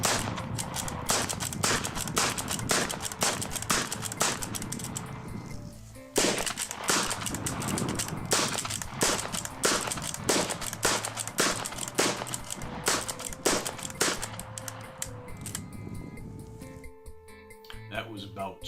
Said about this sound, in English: Now let's look at more of an average person shooting a bolt action rifle.